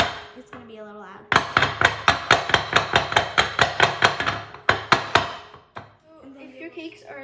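A miniature cake pan filled with vanilla batter is rapped against a counter about twenty times in a fast, even series of loud, close knocks, with a brief pause before a final few, and a little talk before and after.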